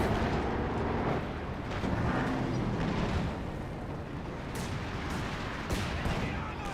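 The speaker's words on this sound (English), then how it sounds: "You've also got heat rounds from the pack howitzer." Pack howitzer HEAT rounds burst across a Company of Heroes 2 battlefield, a dense, continuous roar of explosions and rumbling blasts with no clear gaps, loud throughout.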